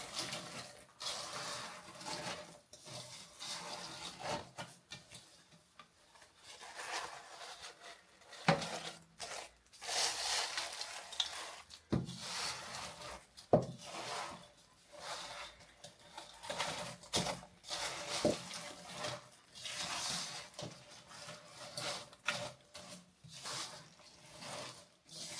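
Chocolate biscuit cake mixture being stirred and folded in a bowl, giving soft, irregular sticky rubs and scrapes with occasional clinks, fairly quiet and continuous with no talking.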